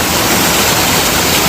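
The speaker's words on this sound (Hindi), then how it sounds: "लोग चल रहे हैं वहाँ पे जो पानी वो गिर रहा है" Mountain stream water falling on a trek near Rishikesh and the Neelkanth Mahadev trail: a steady, loud, close rushing roar with no pauses and no voices.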